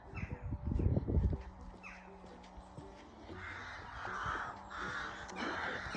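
Crows cawing outdoors near a graveyard, several harsh calls repeating at moderate distance over a low steady background, with a louder rustle or handling noise at the start.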